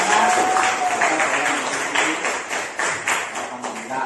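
A group in a classroom lecture on Islamic economics claps their hands together, a steady, fairly loud patter of clapping that carries on throughout with voices mixed in.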